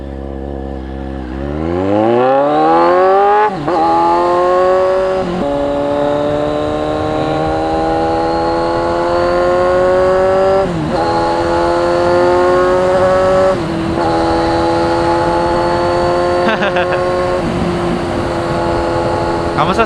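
A CFMOTO 750SR motorcycle starts off and accelerates, the engine revving up through rising gear pulls with brief dips at shifts, then holding a loud, steady drone close by.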